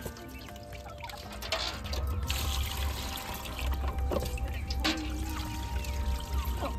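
Running water pours and splashes as pieces of fish are washed clean, an uneven close trickle and spatter that rises and falls over several seconds, with no talking.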